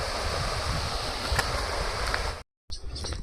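Water rushes through a tunnel at Gandikota as a continuous, moderately loud hiss and roar, with a few faint knocks, broken by a short silent gap near the end; no voices.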